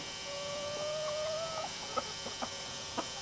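A white chicken gives a few soft, short clucks over a steady background hum. A faint higher call drifts along with them, and the sound is fairly distant and quiet.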